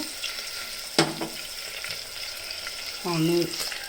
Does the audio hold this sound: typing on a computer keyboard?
no